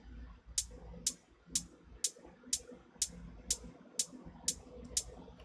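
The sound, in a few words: closed hi-hat from an 808, in Ableton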